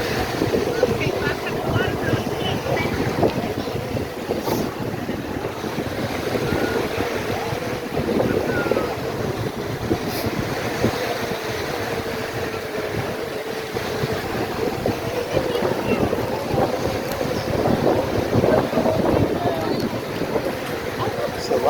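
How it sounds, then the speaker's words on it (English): Wind buffets the microphone steadily on Fort Myers Beach while waves wash in beneath it, a constant loud rushing roar with occasional gusts and faint surf swells. "So the wind is picking up. And the waves, because the tide's coming in a little bit"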